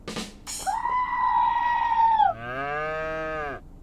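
Farm animals bellow in long, loud, drawn-out calls nearby, one sustained call followed by a second lower, wavering one, with no other sound around them.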